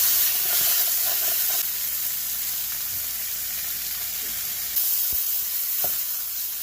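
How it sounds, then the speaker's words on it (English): Beef hind shanks fry in a pot with a steady, close hiss and sizzle that fills the whole stretch, with a few faint clinks and stirring knocks near the end. "I just got finished frying those bad boys up"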